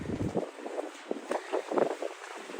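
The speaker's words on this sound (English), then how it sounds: "the wind right now is no joke. It's really windy out here." Steady gusting wind buffets the microphone with a rough, rumbling roar that rises and falls continuously, with no talking, outdoors on a street in Brooklyn, New York City.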